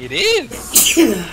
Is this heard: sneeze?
yes